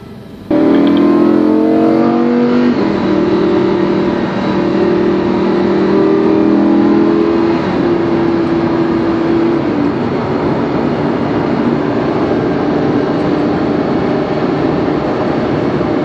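A Lamborghini Huracan on a test drive, its engine starting up to a loud, close droning roar with steady tonal revs that rise and then settle into a constant rushing drive, with no talk.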